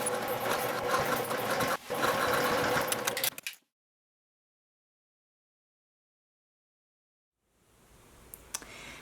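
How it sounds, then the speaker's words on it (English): A sewing machine runs top stitching along the back edge of a zippered bag, whirring with a steady clatter for a few seconds, then falling silent, with only a faint hum and clicks returning near the end. "you can sew right along the back edge to do your top stitching"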